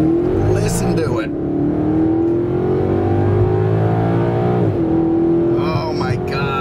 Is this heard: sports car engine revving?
yes